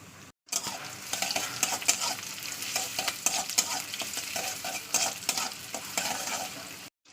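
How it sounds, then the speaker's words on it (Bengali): Onion frying in hot oil in a wok, a dense steady sizzle with scraping stir strokes, close and loud, starting abruptly after a brief pause and cutting off near the end. "এবার তেল দিয়ে দিচ্ছি অল্প করে, তেলটা গরম হলে দিয়ে দেবো পেঁয়াজ"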